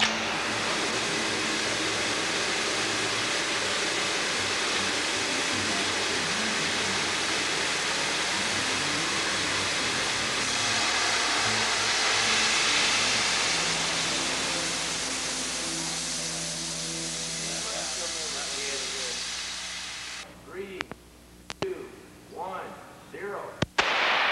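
A rocket engine fed from a nitric acid tank roars in a steady, loud broadband blast for about twenty seconds after ignition, then cuts off abruptly, followed by scattered pops and crackles.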